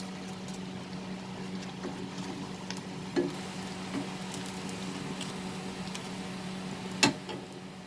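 Cheese potato bites sizzle steadily in hot oil, with a constant low bubbling hiss and occasional sharper pops and crackles, nearby and fairly even.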